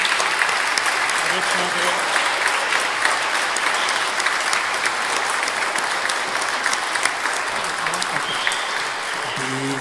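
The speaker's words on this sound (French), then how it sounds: "Tout le monde en salle, on applaudit" Sustained applause from an audience in a hall closing an anniversary festivity, steady dense clapping filling the space throughout, with a brief spoken voice near the end.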